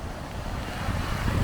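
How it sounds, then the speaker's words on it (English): Wind gusts outdoors at Holland Cove on a rainy day, a steady broadband rush buffeting the microphone and building slightly toward the end, with no voices. "I imagine it's rainy out there too. And windy."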